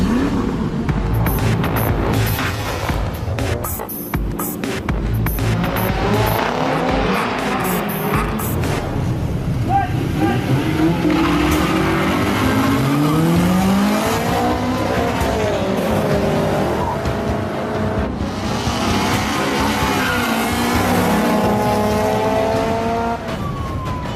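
Street racing cars roar continuously as engines rev up and down with tires squealing through turns, a dense, loud wash of motor noise across the whole stretch, with no talking.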